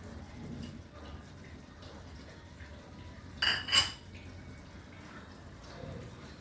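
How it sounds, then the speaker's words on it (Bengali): A spoon clinks twice against a pot as coriander leaves are stirred into a soybean and potato curry, a short pair of metallic taps near the middle over a quiet kitchen background. "ধনে পাতাটা মিশিয়ে দিচ্ছি।"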